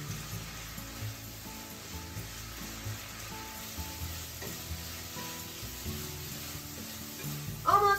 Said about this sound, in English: keep cooking about a minute or so to cook down the sauce